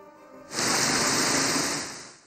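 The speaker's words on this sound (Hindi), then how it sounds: "ईद के दूसरे रोज लाहौर में शदीद बारिश, जल थल एक हो गया" Heavy rain pours down in Lahore, a dense hissing roar that begins abruptly after a brief quiet start, holds loud and steady, then eases slightly at the end.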